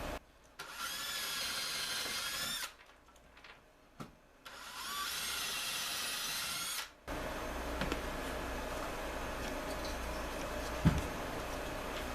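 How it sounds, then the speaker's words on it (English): A power drill drilling through a shim whirs in two short bursts with a pause between, then a lower steady mechanical hum continues to the end. "while I'm drilling that, just so the shim doesn't fall while I'm drilling"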